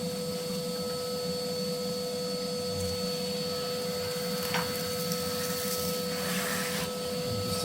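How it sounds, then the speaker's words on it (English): A vacuum cleaner hoovers ash out of a grubby multi-fuel wood burner, running with a steady, fairly quiet motor whine and a constant high tone, and an occasional rattle as debris is sucked up. "Have a bit of a hoover up"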